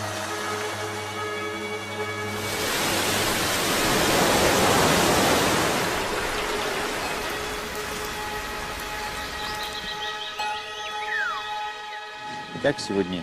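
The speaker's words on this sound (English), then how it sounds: "This is the origin of the rain, which rushes down in countless waterfalls." A broad hiss of heavy rain swells and peaks, then fades as tonal ringing sounds and a few sharp knocks take over near the end.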